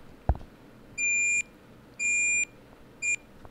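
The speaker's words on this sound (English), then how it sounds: "hold down the power button until you hear three beeps" An Intel NUC5CPYH mini computer gives three evenly spaced electronic beeps, each about half a second long, as its power button is held, over a faint background hum, with a short click just before them.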